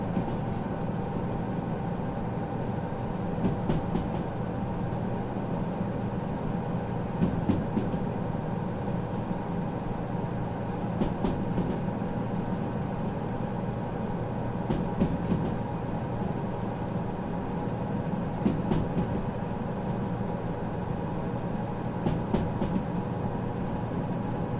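A locomotive in the Derail Valley train game runs with a steady low rumble and hum, broken by faint periodic clanks, with no one speaking.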